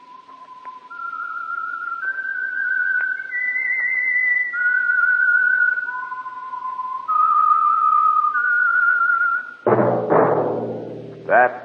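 Someone whistles the slow, wavering theme melody of The Whistler radio program, sustained notes, clear and alone, before a brief burst of brassy music cuts in near the end.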